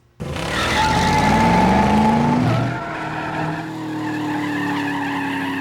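The General Lee, a Formula D drift car, is flicked into a slide, its tires squealing loudly in a long, close screech over a revving engine that eases off and then holds a steady drone.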